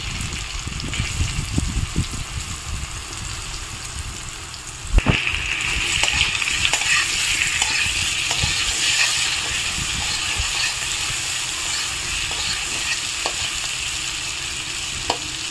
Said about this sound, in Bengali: ওই তেলে আমি এখন মানকচু আর আলুগুলো ভেজে নেব।